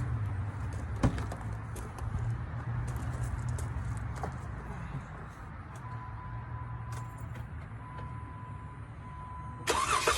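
A 2015 Jeep Wrangler engine, just repaired for a misfire, cranks and settles into a steady low rumble, with a louder burst of noise near the end.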